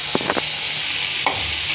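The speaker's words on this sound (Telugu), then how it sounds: "స్లిమ్లో పెట్టుకొని వేయించుకోండి, లేదంటే మాడిపోతుంది" Mint chutney ingredients fry in a pan with a steady soft sizzle, broken by a few short scraping stirs near the start and another brief stir later, close and moderately loud.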